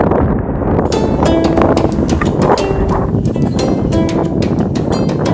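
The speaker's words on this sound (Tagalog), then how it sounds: "Sobrang lakas ng hangin." Loud, constant wind buffets and roars across the microphone for several seconds at a mountain viewpoint, with faint scattered knocks underneath.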